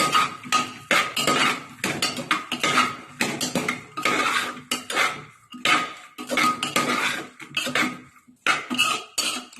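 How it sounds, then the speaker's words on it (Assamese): A spoon scrapes and clanks against a metal pot as chickpea dal with tomatoes is stirred, in repeated loud bursts of clatter separated by short pauses, with no one talking. "আৰু গোটেইখিনি মই মিহলাই দিম।"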